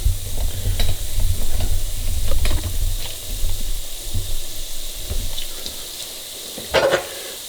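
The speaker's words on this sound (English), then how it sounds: "Just put these right into the oil." Pieces of peanut butter bread fry in hot oil with a steady, close sizzle and bubbling crackle, a few sharper pops and a brief clatter near the end; no one talks.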